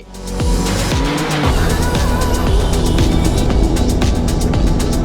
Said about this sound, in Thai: วันนี้ครับเราจะเอามาลองทดสอบกันดูซิว่าเจ้า Ranger Raptor คันนี้ขับแบบออฟโรดความเร็วต่ำๆจะเป็นอย่างไร